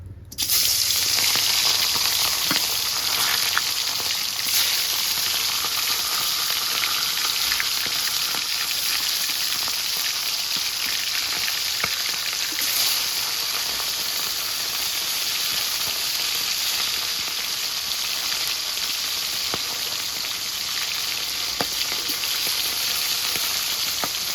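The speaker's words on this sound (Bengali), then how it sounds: "গরম হয়ে গেছে, এবার মাছটা দিয়ে দেবো, আমি ভাজবো" Hilsa fish frying in hot oil gives a loud, steady sizzle that holds at a constant level throughout, with no talking.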